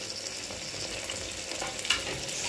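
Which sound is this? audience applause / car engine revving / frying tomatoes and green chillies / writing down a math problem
frying tomatoes and green chillies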